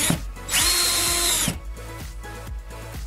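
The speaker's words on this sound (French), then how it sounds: "Enfoncez des bâtonnets en bois ou des cure-dents dans les trous élargis et revissez la charnière" Power drill driving a screw to refasten a furniture hinge into wooden sticks or toothpicks packed into enlarged holes, one loud whirring burst in the middle between shorter low revving pulses, close and alone.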